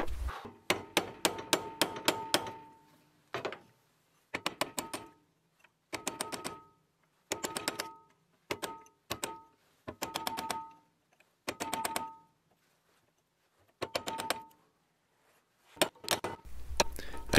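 Someone punches and hammers a stuck part on a John Deere 1010 tractor, producing sharp metallic blows in quick bursts of several strikes, separated by short pauses and ringing with a faint clang.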